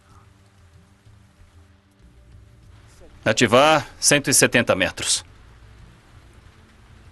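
Heavy rain patters steadily through the cockpit of a Korean Air airliner on landing approach, a constant wash beneath the cabin noise while a synthetic voice makes a brief automated callout partway through.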